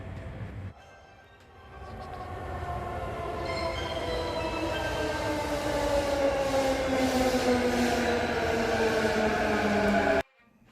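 A train pulls into a station in Nagano, Japan, its drawn-out metallic wheel and motor whine sliding slowly downward in pitch over a steady rolling rumble. The sound is loud and continuous, then cuts off abruptly near the end.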